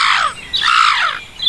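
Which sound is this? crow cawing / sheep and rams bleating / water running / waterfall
crow cawing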